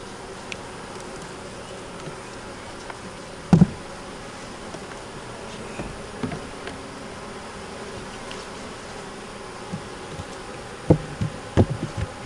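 Honeybees buzz steadily around an open hive during a close inspection for the queen, eggs, growth, health and stores, a dense continuous drone with a few nearby knocks and thumps from the hive frames.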